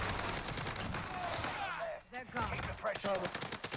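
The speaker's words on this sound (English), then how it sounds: "You're getting shot at." Gunfire in the video game Warzone ranked play, rapid bursts of shots rattling under players talking over each other, with a brief lull before more firing.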